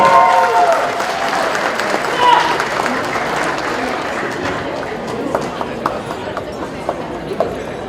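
A banquet crowd applauds as the 2025 APAC president walks on stage at an Asian Pacific American Council of Georgia event. A broad wash of clapping mixes with crowd chatter and a voice near the start, then thins into scattered claps.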